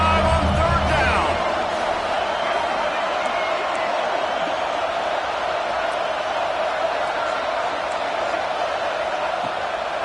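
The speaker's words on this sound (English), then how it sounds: "The Buckeye crowd alive on third down." Ohio State Buckeye football stadium crowd cheering on a third down, a loud, steady roar filling the whole stretch, with a brief burst of louder noise at the start and faint talk beneath.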